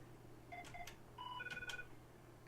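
A phone rings during a live comedy show broadcast, a series of short electronic tone bursts in two groups over a steady background hum, moderately loud with no talk.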